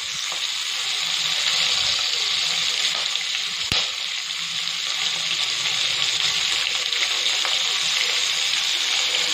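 Onion, ginger and salt fry in hot oil in a pan while a curry leaf chutney is made, giving a steady, loud, close sizzle with one brief clatter partway through and no one talking.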